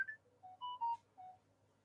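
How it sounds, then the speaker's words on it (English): A phone rings with a short run of electronic ringtone beeps in a stepped, melodic pattern, fairly faint and clear, with a low background hum and no talking. "who's ringing me now?"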